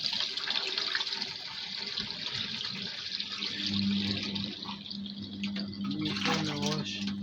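Water splashing and sloshing into a manually filled washing machine during its final rinse, a continuous running-water wash that swells midway, with a faint voice briefly audible near the end.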